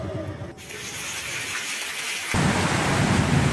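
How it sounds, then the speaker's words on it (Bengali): Dense, steady rain drums on a tin roof, a continuous rushing patter that swells noticeably louder partway through. "গৃহস্থ বাড়ির টিনের চালে বৃষ্টি তুলে রিমঝিম শব্দ"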